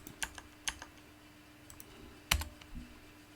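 Scattered keystrokes on a computer keyboard, a few soft clicks and one sharper key press, close and quiet with no talking.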